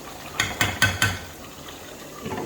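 Spoon scraping and knocking against a pot of simmering bolognese mince, four quick clinking strokes in succession followed by a quiet bubbling background.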